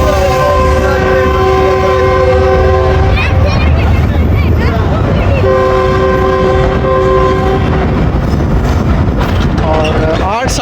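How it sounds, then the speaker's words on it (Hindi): Sandal Express passenger train approaching a station, its horn blaring loud and sustained in two long blasts with a shorter third, over steady rumbling wheels and crowd noise. "140 डाउन सांदल एक्सप्रेस सिला वाली रेलवे स्टेशन पे अप्रोच बना रही है।"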